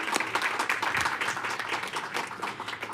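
A room of people at a school board special meeting gives a candidate a round of applause, with brisk, moderately loud clapping that holds steady throughout.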